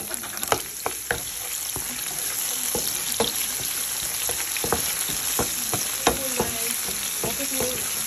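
Onion and garlic frying in a pan with a steady, loud sizzle, accompanied by frequent sharp clicks and scrapes of stirring throughout.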